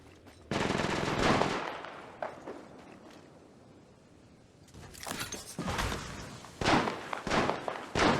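Bursts of gunfire in the battle royale shooter Apex Legends Mobile, a sustained close volley at the start, then a lull and several sharper, shorter bursts toward the end.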